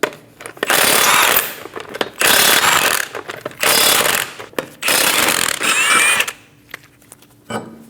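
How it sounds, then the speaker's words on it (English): Impact wrench or ratchet spinning off the five lug nuts of a 2008-2015 Scion xB front wheel with a 21mm socket, four loud rattling bursts of a couple of seconds each separated by short pauses, close and alone. "Using a 21mm socket, remove the 5 lug nuts."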